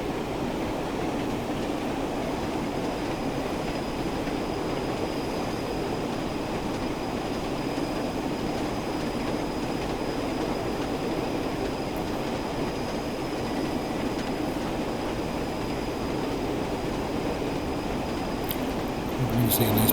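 A locomotive hauling carriages in Train Sim World rolls along with a steady rumble of wheels and track noise, heard throughout at moderate level while someone talks over it.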